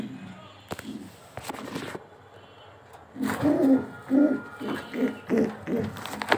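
A big-sized racer homing pigeon held in the hand gives several low, rhythmic coos that grow louder in the second half, with faint rustling and a voice talking earlier.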